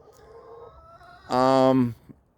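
Backyard hens in an Amish-built coop made for ten chickens give a loud, close burst of harmonic clucking and squawking lasting under a second, after quieter low calls and soft background sound.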